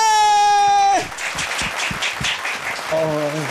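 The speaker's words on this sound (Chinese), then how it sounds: "掌声鼓励。" Audience applause at a karaoke variety show, a burst of clapping and cheering that rises after a sung note and fades as music returns.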